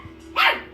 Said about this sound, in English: Puppy over here barking at himself.